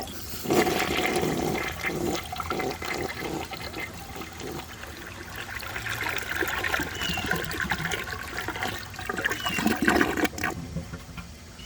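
A 1984 American Standard Cadet toilet flushes with a short, rushing surge of water that swirls and gurgles, then trickles as the bowl drains and refills, close and fairly loud with no talking.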